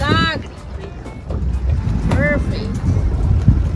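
A small boat is eased into its mooring spot: a low rumbling drone mixed with wind buffeting, and a few brief high squeaks rising over the noise.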